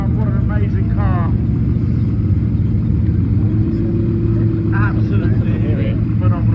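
A Liberty Walk Lamborghini Huracan supercar drives down a runway at Supercar Fest, its engine a loud continuous roar, with people talking over it.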